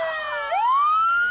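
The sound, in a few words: Naked Gun police siren sound effect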